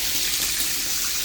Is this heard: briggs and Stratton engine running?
no